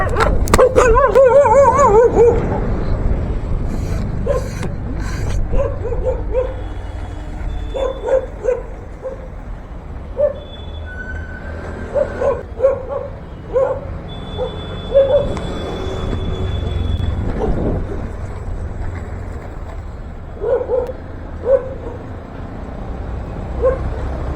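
Several street dogs bark and yelp on a Kolkata road while chasing a skateboarder, a steady run of barks over about twenty seconds with traffic noise and a passing horn beneath them.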